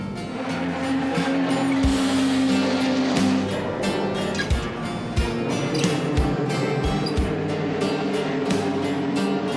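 Historic racing cars at the Le Mans Classic circuit pass with a loud, rasping engine roar that fades into a busy background, punctuated by regular sharp clicks or thumps.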